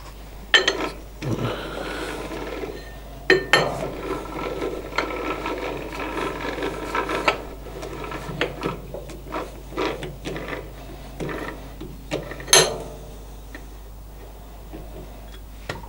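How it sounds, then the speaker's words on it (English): Machining a faceting machine lapping plate flat on a lathe: irregular scraping and cutting chatter with sharp ticks and clacks, close and fairly loud, running unevenly throughout. "I'll machine this side first, just get it flat, level with the outside here"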